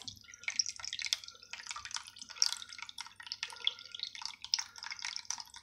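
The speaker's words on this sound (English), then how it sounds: "You can see the water's coming out now." Water drains in irregular splashes and drips from the opened door of a Miele W3164 washing machine onto towels, quiet and close, with uneven bursts of trickling throughout.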